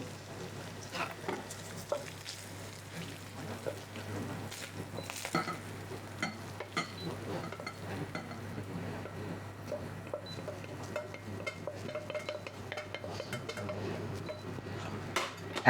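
Fried meat for a German Haschee sauce is lifted from a sizzling pan, with soft metallic scrapes and utensil clinks over a steady low frying hiss, fairly quiet and close.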